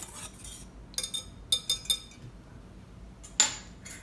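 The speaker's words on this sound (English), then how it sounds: "I just like to use a whisk to combine those." A whisk tapping and clinking against a bowl while combining flour, baking soda, cinnamon and salt for oatmeal raisin cookies: a few sharp metallic clinks in short bursts over near silence.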